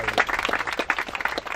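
An audience applauds at a local event, a short burst of steady, moderately loud clapping from a small crowd.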